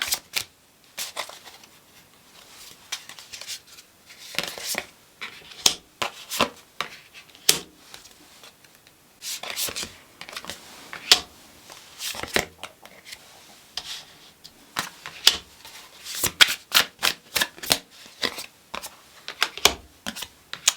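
Tarot cards being shuffled and handled during a reading: repeated crisp riffles and slides of the card stack, sounding close and fairly loud. The bursts come in irregular clusters across the clip, with no talking.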